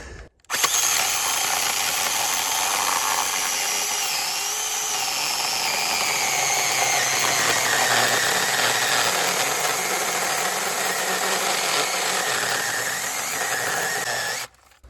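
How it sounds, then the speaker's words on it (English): An 8-inch mini cordless chainsaw cuts into a large standing dead red oak, a continuous high-pitched whining buzz that stays loud and steady for about fourteen seconds before stopping abruptly. "What a better way to test out a mini chainsaw than cutting a tree that is obnoxiously big for a mini chainsaw."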